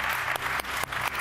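Steady applause from a studio audience on a Turkish daytime television show, dense and continuous for a moment with a few brief dips in intensity, no voices over it.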